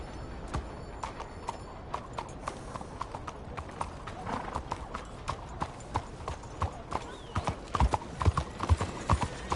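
Horse hooves clip-clop steadily in Red Dead, a quick, even run of close hoofbeats that grows louder toward the end, with faint talk underneath.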